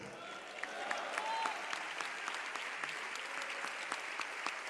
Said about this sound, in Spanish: Está muy flaco ese aplauso.